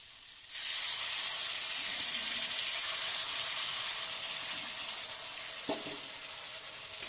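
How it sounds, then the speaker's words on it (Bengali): Water poured into a pan of well-fried garlic masala sets off a loud, sudden hiss and sizzle that holds steady, then slowly eases, with a faint clink of utensil near the end. "মশলাটা ভালোভাবে কষা হয়ে গেছে, এবার একটু জল দিয়ে দেব"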